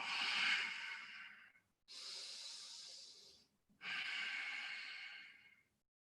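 Deep yoga breaths during a HIIT yoga session: three long, close breaths in an inhale-exhale-inhale pattern, each a smooth airy rush lasting about two seconds with brief pauses between, and no talking.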